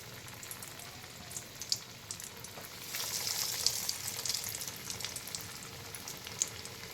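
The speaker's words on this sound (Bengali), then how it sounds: "আগে ছেড়ে দিচ্ছি, তেল গরম হয়ে গেছে।" Crumb-coated fish chops sliding into hot oil set off a dense, steady crackling sizzle that grows busier midway as more pieces go in, close and without talk.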